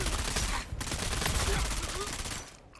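Rapid disruptor gun fire in a sci-fi video game, a dense, continuous burst of shots close up that runs for most of the stretch before cutting off abruptly near the end.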